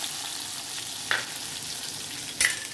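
Vegetables frying in a hot mustard-seed, cumin and curry-leaf tempering for sambar give a steady, close sizzling hiss, broken by two brief sharp crackles.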